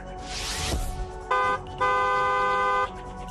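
A car horn sounds twice: a short blast, then a longer sustained honk, after a brief whooshing pass of traffic.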